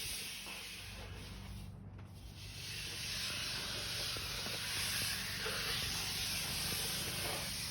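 Fairing compound on a 17-foot Campion Sunrid canoe hull being sanded, a steady close hiss of abrasive rubbing that dips briefly then continues evenly, with no talk.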